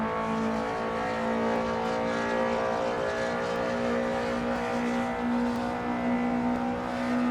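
A BMW E30 M3 engine at sustained high revs as the car speeds through New York City streets in a driving game, a loud continuous close-up howl with slight pitch wavering.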